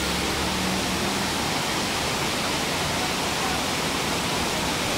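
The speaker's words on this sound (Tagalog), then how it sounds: "meron din ditong paliguan. Yan, na nanggagaling din doon sa falls." Waterfall pouring into a natural bathing pool in Puerto Galera, a steady, dense rush of falling water that fills the scene evenly and closely throughout, with no pauses or change in intensity.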